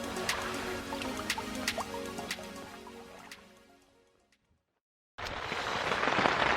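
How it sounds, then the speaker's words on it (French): Steady patter of rain with scattered drips, dropping away into near silence for a moment before a dense wash of rain noise returns. "Désolé pour le bruit, il pleut dehors."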